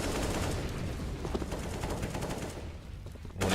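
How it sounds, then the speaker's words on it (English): Rapid gunfire bursts in Counter-Strike on the Mirage map during a FaZe versus Mousesports ECS Season 5 Europe match, loud sustained automatic shooting that thins out before a final burst. "Warning shots from Robs, but he doesn't manage to get any kill"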